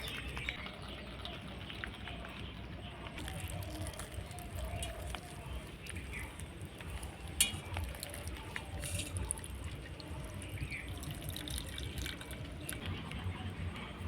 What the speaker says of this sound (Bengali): আমি টক জলটা বের করে নেব